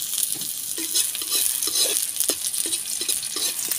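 Garlic, ginger and onion sizzle in a hot pan, a bright constant crackle with a spatula stirring and scraping at intervals, close and loud.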